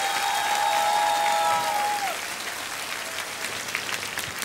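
Concert audience applause fills the space, a dense, steady wash of clapping that stays loud throughout while a sustained tone fades out early on.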